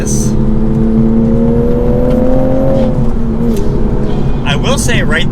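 2023 Toyota Supra engine accelerating in sport mode, a loud close drone rising steadily in pitch for a few seconds, then easing off as a brief gear change and other noises follow.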